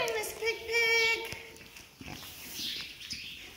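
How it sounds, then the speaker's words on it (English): A farm pig at morning grain-feeding time gives a short, loud grunting oink near the start, then quieter snuffling and shuffling follows. "Say good morning, Miss Pig Pig"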